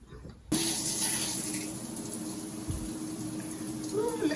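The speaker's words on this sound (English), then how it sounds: "That is much more water flow than I had before." A new flexible high-pressure shower head switches on abruptly and sprays a strong, steady hiss of water into the shower, near and continuous after a brief quiet start.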